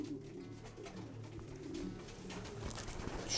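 Racing pigeons coo softly in a loft, low murmuring calls that rise slightly toward the end, close but faint, with no talk.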